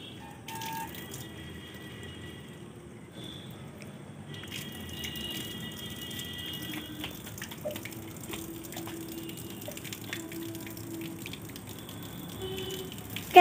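A small child waters plants, the water trickling and splashing steadily at a low level for several seconds, with faint household background sounds around it.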